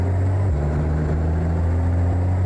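A modded Ford F450 pickup with the Jon Ruda engine sound, driven in American Truck Simulator, drones with a steady low diesel hum. A brief shift in pitch comes midway, and the tone stays constant and close, with no talking.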